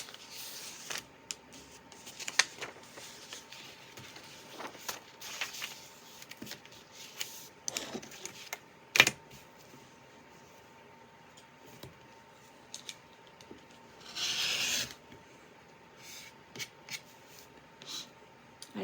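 Fabric being trimmed with a cutting blade during quilt piecing, heard as faint, irregular short snips and rustles scattered across a quiet room, with one brief louder rustle partway through.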